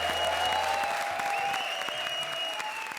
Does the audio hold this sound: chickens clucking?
no